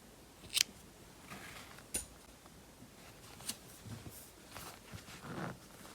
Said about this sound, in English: and cut the yarn.